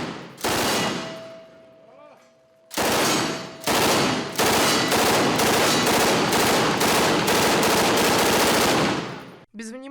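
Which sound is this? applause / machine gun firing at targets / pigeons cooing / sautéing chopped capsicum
machine gun firing at targets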